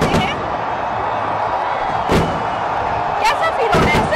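Fireworks burst over a crowded Independence Day night celebration at Minar-e-Pakistan, with a few sharp, booming cracks spread through the clip over a steady roar of crowd noise and scattered voices.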